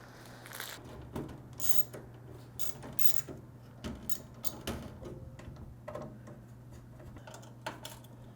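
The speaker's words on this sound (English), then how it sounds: "go ahead and take the screws that it came with and screw down your motherboard" Screws are driven by hand to mount a motherboard in a PC case, giving faint close ratcheting clicks and small ticking taps over a low steady hum.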